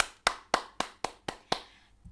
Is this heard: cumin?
no